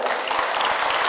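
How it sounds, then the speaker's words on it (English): Audience at a township business innovation summit applauding, a brief, steady, moderately loud burst of many hands clapping together. "A round of applause for those people"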